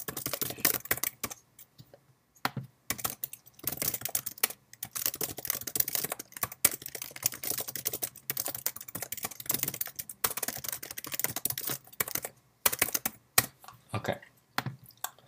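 Code being typed on a computer keyboard in Visual C#, a steady run of quick key clicks in irregular bursts with short pauses, close and fairly quiet, no voices.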